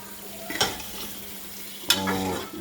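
Beaten egg and potato with a pinch of nigella seeds fry in a pan, a steady soft sizzle broken by two scraping stirs of a utensil against the pan.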